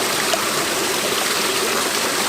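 Hot volcanic spring water in Oregon gushes and rushes up from the earth, a dense, steady, close roar with no voices.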